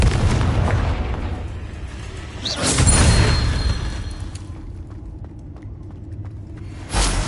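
Confringo fire spell blasts in Hogwarts Legacy on PS5 land as two booming explosions, the first swelling around the middle and a second striking near the end, over a rumbling game soundscape with no talk.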